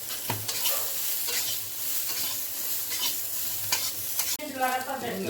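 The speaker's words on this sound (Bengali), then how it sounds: "একটু হলুদ দিয়ে দিচ্ছি। ভালো করে মিক্সড করে নেব।" Vegetables being stirred in a hot pan with salt and turmeric, a steady sizzle and frying hiss with repeated scraping stirs, close and continuous.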